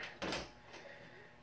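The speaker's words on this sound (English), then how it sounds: "Close the coin door." The coin door of a Data East Jurassic Park pinball machine shuts with a single quiet thump and rattle, followed by a faint secondary clack.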